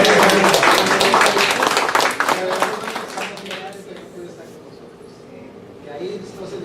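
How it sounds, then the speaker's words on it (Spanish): Applause from a church congregation at a Spanish-language service, a loud burst of many hands clapping that fades over a few seconds, with speech mixed in. "Démosle un aplauso."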